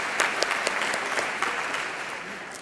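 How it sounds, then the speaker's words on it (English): Steady, dense applause from a large audience at a university address, many hands clapping continuously at moderate volume with a few sharper claps standing out, fading slightly toward the end. "Yeah, that's worth applause here."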